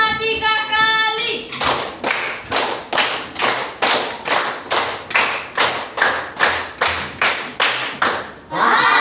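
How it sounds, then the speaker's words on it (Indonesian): A classroom of children clap a counted rhythmic pattern in unison, a brief tonal sound first, then about sixteen sharp, evenly spaced group claps, loud and near. "Sekali lagi, tepuk 5 3 kali"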